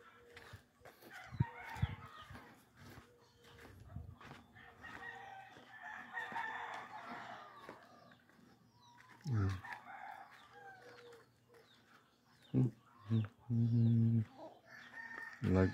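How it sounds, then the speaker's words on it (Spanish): Chickens cluck and call throughout amid farmyard background noise, with several louder bursts later, including what sounds like a rooster crowing. "Ahí va la gallina para el caldo."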